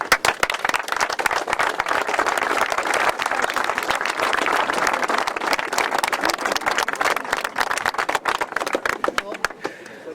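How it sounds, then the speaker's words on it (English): A crowd at an under-15 county final trophy presentation in Kilkenny gives the players' parents a warm round of applause. Loud, sustained clapping from many hands runs throughout and tapers slightly at the end. "So I think all the parents here deserve a very warm round of applause."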